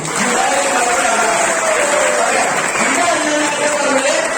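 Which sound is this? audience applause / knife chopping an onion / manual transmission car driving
audience applause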